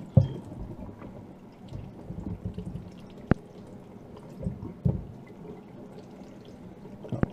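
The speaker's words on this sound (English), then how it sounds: "Get some potatoes, wash them off very carefully," Potatoes being washed in water, with soft splashing, drips and trickling, brief knocks and rubbing at close range, no voices.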